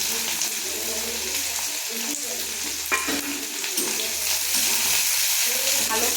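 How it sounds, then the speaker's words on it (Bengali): Chopped onion fries in a pan, a steady loud sizzle with occasional stirring scrapes and clinks, continuous throughout at close range. "ভালো করে পেঁয়াজটা ভেজে নেব।"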